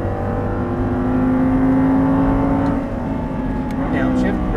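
An Audi R8 engine pulls hard at full throttle on a track, a loud sustained drone with a rising tone, heard from inside the car.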